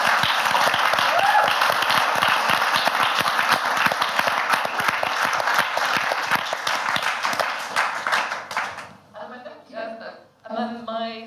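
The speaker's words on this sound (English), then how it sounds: "can we all first off start with a round of applause?" An audience at a venture capital report launch gives a steady round of applause, dense and sustained for around nine seconds before tapering off as a person starts talking.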